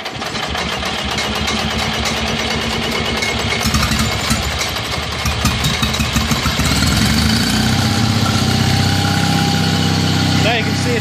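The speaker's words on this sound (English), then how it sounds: "Now you can see it's running on gasoline." A Kohler 5000-watt dual-fuel generator runs on gasoline with a loud, steady mid-pitched engine drone and vibration. It shifts slightly in tone partway through, and someone talks over it.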